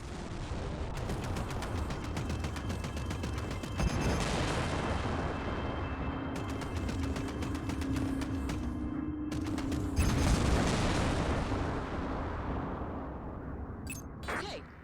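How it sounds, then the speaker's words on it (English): Plasma cannons fire in rapid repeated bursts in the space combat game Strike Suit Zero, layered over a rumbling engine drone and booming impacts, continuous and loud for the whole stretch. "Bring your reticule in line with the target and fire your cannons."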